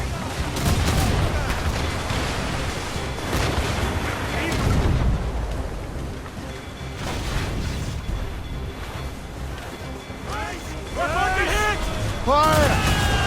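Naval cannon fire in the Assassin's Creed Rogue video game, dense booming salvos and rumbling blasts through a sea battle, with voices shouting over the chaos.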